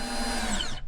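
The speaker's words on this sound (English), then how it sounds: "now I'm going to do pilot holes through the unfinished 1/4 inch, through the plywood, through the shiplap" Power drill boring a pilot hole through unfinished quarter-inch plywood and shiplap into the wood behind, a steady loud close whine held for about a second, then cutting off abruptly.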